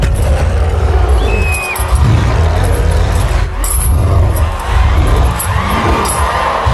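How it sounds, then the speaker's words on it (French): Theatre audience at a comedy show breaking into loud applause and cheering, dense clapping with shouts and whoops rising and falling throughout. "faire un tonnerre d'applaudissements"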